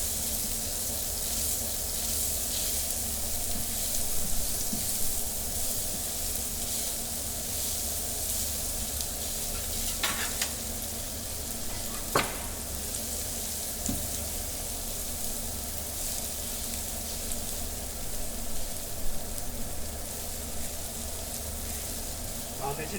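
Vegetables sweat in a frying pan with a steady, soft sizzle and hiss, and a spatula occasionally scrapes and knocks against the pan as they are stirred gently, continuous and close.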